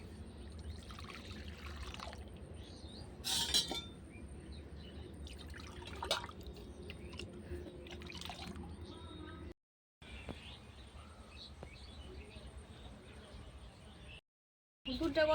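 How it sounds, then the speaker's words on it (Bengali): Milk poured into a pan set on a clay earthen stove, a steady liquid pour with drips and light clinks amid outdoor background noise, with two brief silent gaps. "কড়া বসিয়ে দেবো, দেবো দুধ।"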